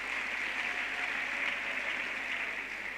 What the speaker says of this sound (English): Can we give our guests a big round of applause?